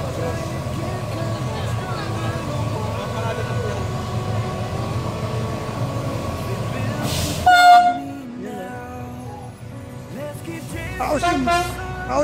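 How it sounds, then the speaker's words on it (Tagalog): A Philippine National Railways train rumbles steadily past at Hondagua, Lopez, Quezon, then lets out a short, hoarse horn blast that cuts through the noise. Voices are heard nearby. "Paos yung busina, eh."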